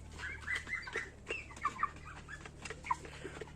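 Broiler chicks cheep and peep in short, scattered calls over a low steady hum, quiet and close, with no talking.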